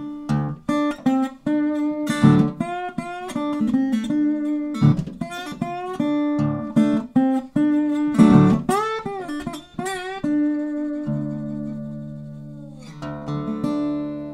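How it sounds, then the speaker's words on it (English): An acoustic guitar played with a glass slide: a blues lick of plucked notes that glide and bend between pitches, with sharp attacks, ringing sustain and a quieter chordal tail near the end, no voices. "with a glass slide, it sounds like this."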